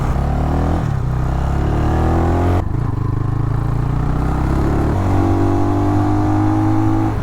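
An RPS Cruiser 300 EFI scooter engine revs hard and accelerates, its pitch climbing in several pulls with brief dips between shifts, loud and close with mechanical clatter.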